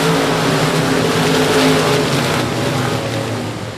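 Race cars accelerating at South Texas Speedway on a restart, a loud dense roar of several engines revving together and holding a high strained pitch.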